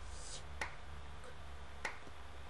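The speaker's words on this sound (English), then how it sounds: "That was my clap." Two sharp, isolated clap hits from a drum sound kit played back in FL Studio, each a crisp snap over a low steady hum, about a second apart.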